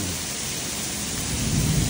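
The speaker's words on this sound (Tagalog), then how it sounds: "tapos biglang ganito buhos ng malakas na ulan." A sudden heavy downpour roars steadily and loudly, a dense wash of rain with low thunder rumbling underneath, and no voices.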